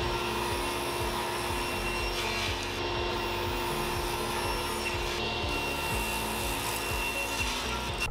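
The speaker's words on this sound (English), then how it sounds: "Then I use the Rockler tapering jig, which easily allows me to chop away the material not needed on 2 sides." Wood being cut on a table saw with a Rockler tapering jig, a loud continuous close whine and rasping cut with no pauses.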